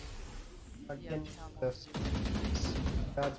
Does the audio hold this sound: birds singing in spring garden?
no